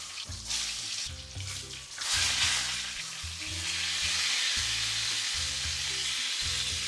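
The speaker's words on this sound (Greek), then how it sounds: "Αφού έχει ζεσταθεί το λάδι, σκουπίζω τις μελιτζάνες και τις προσθέτω" Loud, steady sizzling of eggplants frying in hot oil, with a few clanks of a utensil against the pan, no talking.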